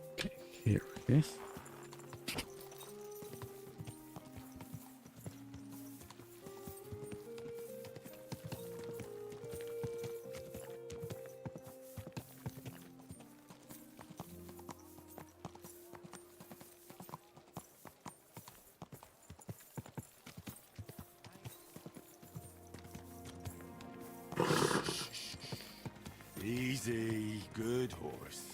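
Horse hooves clip-clopping in a medieval Bohemia exploration video game, a steady rhythmic beat running under music for most of the stretch, with a louder burst of sound near the end.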